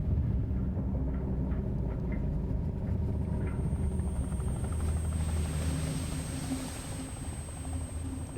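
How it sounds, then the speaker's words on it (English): A helicopter's rotors spin up in the video game Dredge as an executive boards, giving a steady, loud mechanical rumble with a thin high whine that runs on alone without talk. "The executive boards his helicopter rotors already spinning."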